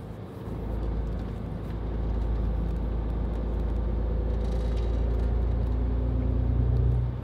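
Car cruising on a road before rejoining the Autobahn, a steady low rumble of engine and tyre noise that swells slightly and holds level, close up with no talk.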